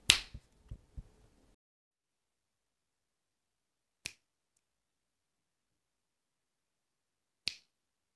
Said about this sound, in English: Like so, clapping and the switch goes on.